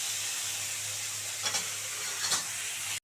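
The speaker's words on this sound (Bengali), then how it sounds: "একটু ভালো করে ভেজে নেব" Prawns frying lightly in a pan, giving a low steady sizzle with two brief louder bursts of spitting oil, then a sharp knock at the very end.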